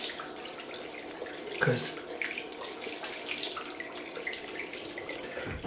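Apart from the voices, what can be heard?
water running from a tap, rinsing after a shave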